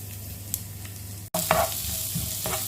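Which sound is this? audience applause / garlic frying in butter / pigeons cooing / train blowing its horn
garlic frying in butter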